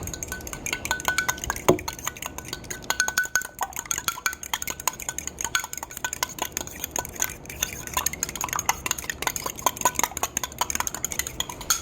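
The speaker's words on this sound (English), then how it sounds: "And now let's get mixing our eggs here." Eggs being mixed in a metal bowl for Pillsbury Funfetti cupcakes, a steady run of quick clinking and scraping strokes from a utensil against the bowl, close and continuous with no talk.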